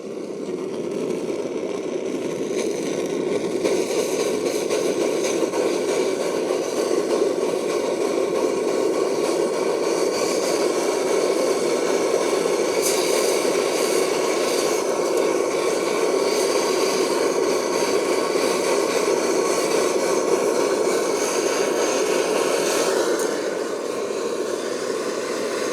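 A Primus OmniFuel II camping stove burner, cleaned after not working properly, roars with its valve opened further: a loud, steady, hissing rush that holds evenly for about 25 seconds, close up and with no talking.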